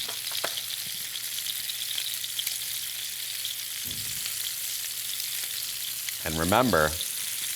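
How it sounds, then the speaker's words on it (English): Steaks searing in a hot pan give a steady broadband sizzle throughout, with a brief louder burst of sputtering near the end and a short spoken phrase early on. "those steaks are in the pan because that's when all the beautiful flavor gets built"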